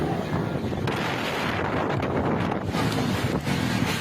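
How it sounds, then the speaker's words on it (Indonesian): Strong whirlwind gusts sweeping across the town square in Lembang, Bandung, West Java: a steady, loud roar of buffeting wind against the microphone throughout, with no break. "Angin puting beliung melanda wilayah alun-alun Lembang, Bandung, Jawa Barat."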